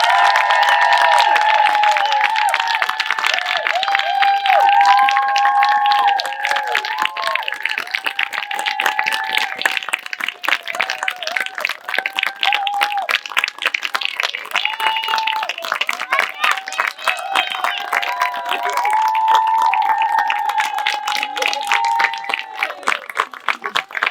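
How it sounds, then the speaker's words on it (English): An audience at a young actors' theatre camp showcase gives a long round of applause, dense steady clapping with scattered cheers and high shouts from children throughout. "A round of applause for our troupe of actors."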